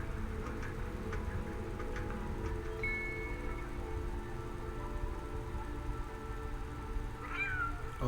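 Meowing from a cat in a video game: one thin, sustained cry midway and a short rising meow near the end, faint against a constant low drone.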